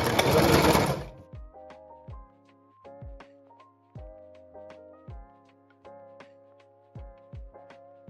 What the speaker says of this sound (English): we are going to sew the arm